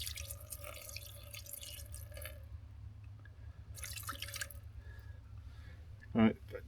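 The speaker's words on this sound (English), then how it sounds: "add a little bit of water" Water trickles and drips into a pan for cooking gyoza over fire gel, faint splashing in a couple of short stretches over a low steady hum, with a brief louder clatter near the end.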